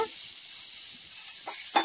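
Dried fish frying in a pan gives a steady, even sizzle that holds through most of the moment, with a couple of brief stirring scrapes near the end.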